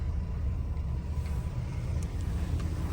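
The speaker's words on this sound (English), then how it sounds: "So we'll take a listen to the engine and the car running." A steady, low engine rumble runs throughout, an idling 1982 Chrysler Imperial with electronic fuel injection heard up close at an even, unbroken level.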